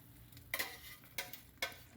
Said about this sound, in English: And then stir away. You're looking for an even coating on all the oats.